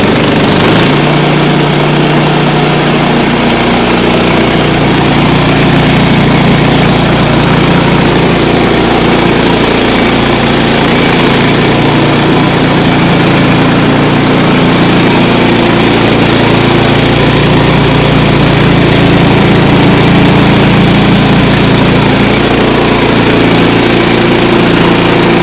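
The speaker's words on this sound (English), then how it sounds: "this is the first cut of the day, guys. Running a new carbide blade." Engine of a Woodland Mills sawmill running steadily as a new carbide blade cuts red oak on a chilly day; a loud, close, continuous drone with a constant hum and no voices.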